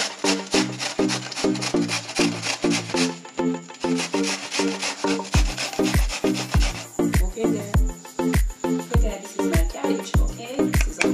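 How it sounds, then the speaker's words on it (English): Cabbage rasps against a grater in quick, close, rhythmic strokes for coleslaw, a steady scraping back-and-forth with small pauses, loud and alone without talk. "over this side, guys, I'll be grating my cabbage"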